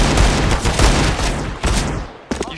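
Gunfire in a CS:GO competitive match, loud rapid bursts of shots in close succession, dense and booming, with a short gap before a final sharp burst.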